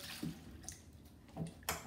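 Vegetables washed by hand in Clorox bleach water, faint sloshing with a few distinct splashes and drips at irregular intervals, close and without speech.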